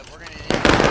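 Cannon fire booms in War of Rights, a Civil War battlefield game, as a sharp blast erupts halfway through and rolls into a rumbling burst, with a voice talking around it.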